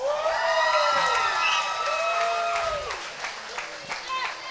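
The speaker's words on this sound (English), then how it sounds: "All right, you guys cheer for the cheerleaders." A banquet-hall audience at a school sports banquet cheers for the cheerleaders, with loud overlapping whoops, high shouts and scattered clapping from a crowd of adults and children that tapers off toward the end.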